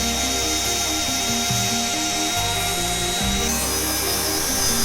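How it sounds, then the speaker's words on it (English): Steady whir of a Dremel rotary tool grinding and shaping a sanded piece of DAS air-dry clay, continuous and close throughout with a rough, fluctuating scraping texture. "So I'm going to take the Dremel to it."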